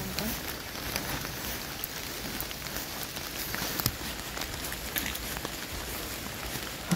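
Steady rain falls across a botanical garden in Batumi, Georgia, a dense continuous patter of drops on leaves and surfaces, close and even throughout, with no talking.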